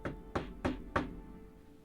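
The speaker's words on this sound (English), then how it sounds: "You knock at the door." Four firm knocks on a door, close and evenly spaced, each a dull thud with a short ring-out, followed by quiet.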